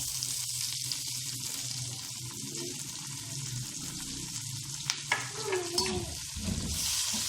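Tomatoes and green chilies fry with already-fried onions in a pan, a steady close sizzle broken by stirring scrapes and a louder burst of hissing as the pieces hit the hot oil near the end, with no talking.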